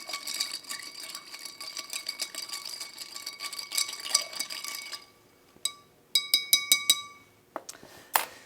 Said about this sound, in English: Then we're going to stir.